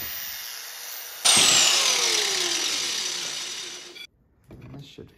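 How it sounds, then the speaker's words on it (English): A Harbor Freight grinder grinds out a weld seam in one loud, harsh burst of about three seconds, its pitch sliding downward as it winds off, followed by a few brief, quieter knocks. "We're gonna use this, grind that weld seam out of there."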